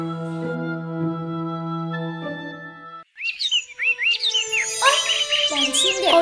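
Cartoon birds chirp and tweet in quick, bright bursts over a sustained musical chord, the chirping growing busier and louder in the second half as a flock takes off.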